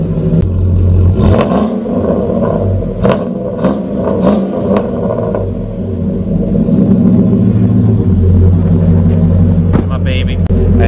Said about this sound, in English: have a full custom MagnaFlow exhaust, so dual all the way from the headers all the way out to the back